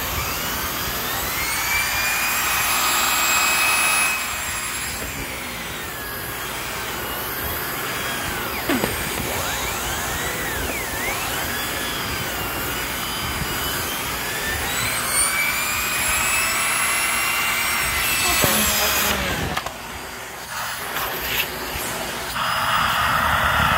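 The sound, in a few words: Simplicity Synergy S40P vacuum cleaner running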